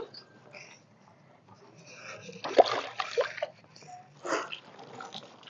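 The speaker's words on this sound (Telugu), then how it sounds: "ఇప్పుడు ఈ మొక్క అయితే నాటుకున్న కదా ఇంకా నీళ్లు పోసేసుకుందాం" Soft splashing of water poured onto soil, a few quiet bursts of trickling and splatter midway through an otherwise hushed setting.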